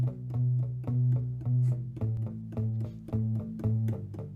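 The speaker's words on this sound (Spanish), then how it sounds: "Esta máquina de escribir suena así." Typewriter vibrations picked up by a sensor and turned into electronic sound, heard as a steady pulsing groove of punchy, drum-like hits with tonal bass notes, loud and close, no voices.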